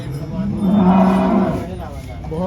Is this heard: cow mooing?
yes